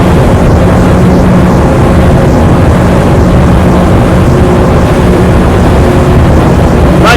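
Fountain 38 TE boat with triple Mercury 400 V10 outboards cruising at speed, a loud, steady engine drone mixed with rushing water and wind buffeting that holds throughout without a break.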